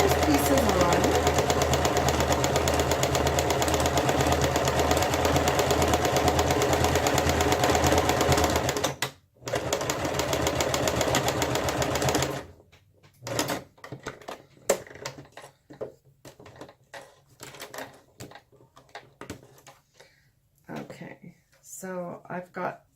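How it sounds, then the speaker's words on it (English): A sewing machine stitches fabric pieces onto an art journal in a long, loud, steady mechanical whir, then stops and starts in short bursts as someone talks. "Okay, so I'm just sewing these pieces on."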